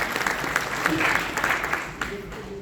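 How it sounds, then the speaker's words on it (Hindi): An audience claps steadily and loudly at a live demonstration talk about alkaline mineral drops. The dense, continuous clapping runs for the whole stretch, with a voice over it. "हाँ ताली बजाना जोर से बजाओ भाई।"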